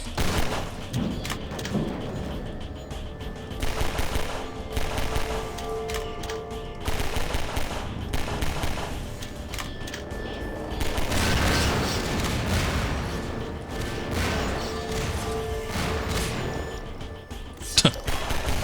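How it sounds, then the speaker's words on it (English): Video game gunfire in Half-Life 2, with repeated bursts of shots and impacts layered over dense game noise and ambience, carrying on through the scene and ending with one sharp loud hit near the end. "Who the hell's shooting me?"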